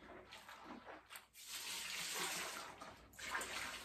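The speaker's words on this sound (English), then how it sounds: "So you rinse it, squeeze out the soap." A fabric face mask is rinsed under a running tap, the water gushing and splashing steadily at close range, briefly interrupted as the mask is moved and squeezed.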